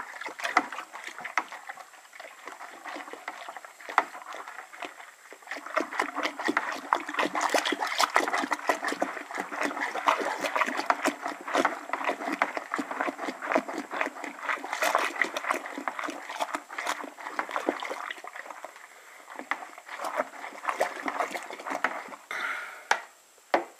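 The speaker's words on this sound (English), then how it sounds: "I will get my stirring spoon and mix that in" Spoon stirring an all-grain beer mash, a continuous wet sloshing and scraping with irregular splashes, fairly close and moderate in level, alone without talk.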